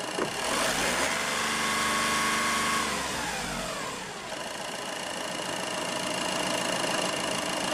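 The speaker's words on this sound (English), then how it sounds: "Subsequently, rev the engine to establish a good return flow." A diesel engine revs up, its pitch sweeping and then falling back before settling into a steady run, loud and close, with no voices.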